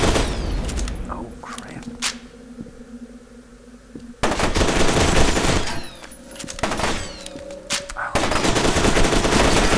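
Rapid gunfire bursts and automatic weapon fire in the shooter game F.E.A.R. 2, loud and dense with sharp cracks, pausing briefly midway before resuming hard, while a player exclaims over the shooting.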